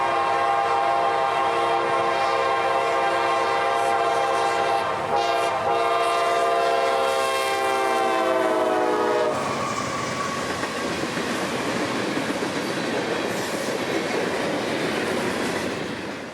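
Freight train passing on the Jessup sub near Folkston, Georgia, a loud sustained horn chord giving way to steady rumbling and rattling of cars rolling by close.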